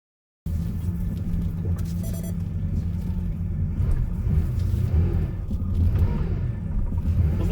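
A 400,000-mile Porsche 911 SC is heard from the cabin while driving, a steady low engine rumble mixed with road noise. The drone holds for about seven seconds with small swells and no talk.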